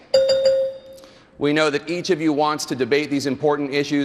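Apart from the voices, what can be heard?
debate timing bell ringing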